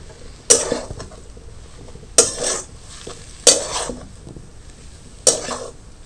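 Spice mixture being stirred into potatoes in a pan for a potato-and-semolina breakfast dish, four distinct scraping clinks of a utensil against the pan spaced over a few seconds, close and crisp over a quiet background.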